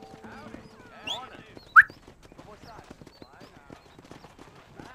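Horse hooves clip-clop at a steady pace in Red Dead Redemption, fairly faint under ongoing talk, with a brief sharp sound rising partway through.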